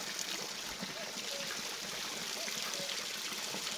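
Water runs steadily from a village public tap at a roadside resting platform, a continuous close trickle and splash with no breaks, heard alone.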